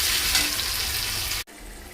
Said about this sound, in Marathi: चला तर मिरची लसूण जरा भाजून घेते फटाफट